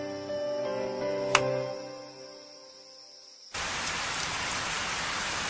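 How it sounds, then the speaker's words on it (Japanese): Heavy rain pours down in a steady, dense hiss that abruptly takes over after a stretch of soft music, filling the scene loudly in an anime set on a camping trip at a temple. "よりによって超大雨になるとは。"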